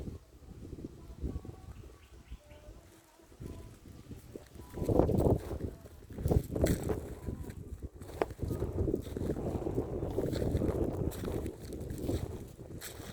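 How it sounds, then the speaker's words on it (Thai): Wind blows outdoors, gusting and buffeting loudly in uneven surges with rumbling wind noise across the whole stretch, no voices. "ลมพัดเย็นดีจัง"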